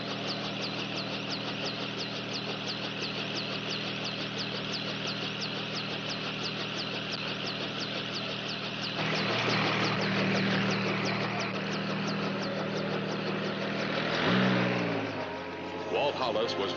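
A 1950s helicopter engine, a loud steady rotor-and-motor drone with rapid pulsing throughout that swells and roughens toward the end, with people talking over it.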